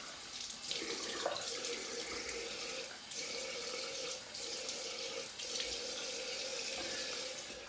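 Tap water runs steadily into a sink while a blade is rinsed, a close, continuous splashing rush that shifts slightly in tone as the flow is interrupted.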